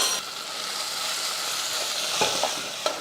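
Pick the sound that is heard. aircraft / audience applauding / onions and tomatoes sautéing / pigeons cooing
onions and tomatoes sautéing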